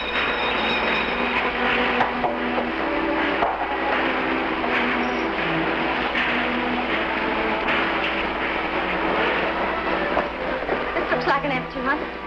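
Rumble of a 1940 passenger train running on the rails, heard from inside the carriage: a steady, loud rolling hum with faint clicks runs throughout, while people talk over it.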